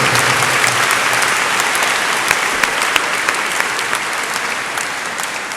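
A church congregation at Palm Sunday Mass claps loudly and continuously, a dense, close wall of applause that tapers off slightly toward the end.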